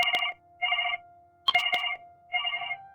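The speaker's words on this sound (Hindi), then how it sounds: "विकास ने मेरे घर पर फोन किया।" A home telephone rings in four evenly spaced electronic bursts, each trill clear and fairly close, with a couple of sharp clicks between rings and no talking.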